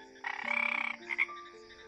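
A frog croaking as a sound effect in a narrated children's storybook: one rattling, pulsing croak followed by a couple of shorter chirps, clear and alone.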